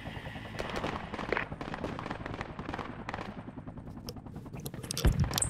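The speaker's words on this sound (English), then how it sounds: "they're shooting from our north" Steady rattle of automatic gunfire in a military squad shooter game, dense overlapping shots at moderate distance with a heavier thump near the end.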